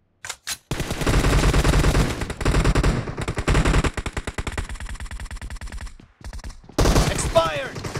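Rapid bursts of M416 rifle fire in Battlegrounds Mobile India ring out loud and close, in long sustained strings broken by short pauses, with a brief shouted voice near the end.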